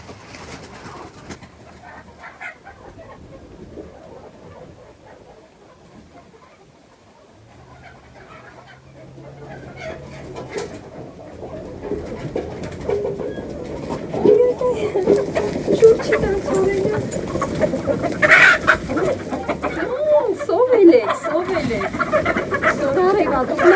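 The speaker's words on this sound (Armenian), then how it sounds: "գնամ բաց թողում հավերին։" Domestic chickens and a rooster let out of their coop in a rural Armenian yard, with clucking and cooing calls that start sparse and faint, then grow busier and closer over the second half.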